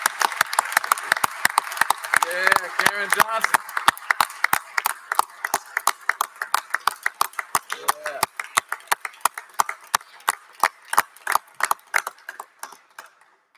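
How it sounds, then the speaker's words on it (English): Applause for a public official on a state House floor: a burst of clapping that thins to a few slow, rhythmic claps fading out, with a brief spoken remark early on. "Give another round of applause to honor this great public official."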